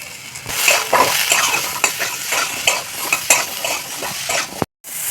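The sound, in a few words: frying potatoes in a pan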